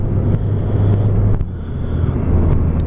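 A 2006 Scion tC with a four-cylinder engine drives along, its steady engine hum and road noise filling the cabin. Near the middle a brief dip and change in tone marks a smooth gear shift.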